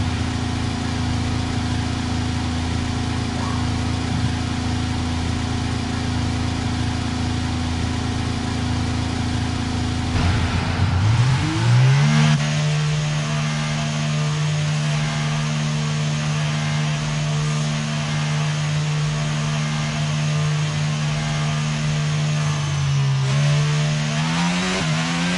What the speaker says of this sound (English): the car's ready to go.